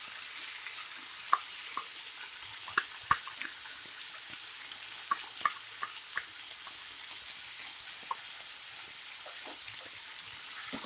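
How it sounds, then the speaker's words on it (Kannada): Yogurt is added to frying haryali chicken in a pan and stirred, giving a steady soft sizzle with scattered scraping clicks from the spoon throughout. "ಈಗ ಮೊಸರು ಹಾಕ್ತಾ ಇದ್ದೀನಿ."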